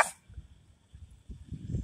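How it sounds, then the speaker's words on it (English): A dog gives faint, short barks on a cold morning outdoors, distant and low, separated by brief quiet gaps. "Why you bark? Why you bark?"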